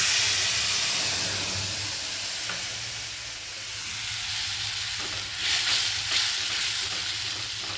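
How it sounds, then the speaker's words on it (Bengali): Loud, continuous hissing sizzle as spice paste for an egg curry hits a hot wok, steady frying with light stirring, close up and without talk. "এবার আমি মশলাটা কড়াইতে দিয়ে দেব।"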